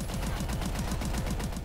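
Rapid automatic gunfire from a weapon in Call of Duty: Advanced Warfare Zombies on the Carrier map, loud, close and evenly paced, forming one continuous burst with no talk.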